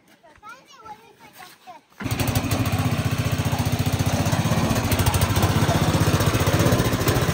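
A heavy tractor engine starts up loud and close after a few seconds of children's voices, then runs with a steady rapid chugging throb, with people talking faintly under it.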